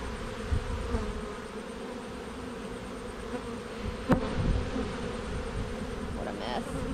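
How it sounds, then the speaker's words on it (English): Honeybees swarm in a very busy, disturbed hive, a dense, continuous close-up buzz that stays steady throughout, broken by one sharp click or knock partway through. "I just made a very busy hive."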